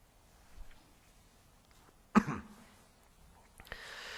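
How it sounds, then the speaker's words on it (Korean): One sharp cough breaks through a quiet room during a pastor's church sermon, followed by a brief throat-clearing tail and faint background noise. "기침을 한번 나오면 계속 나오죠"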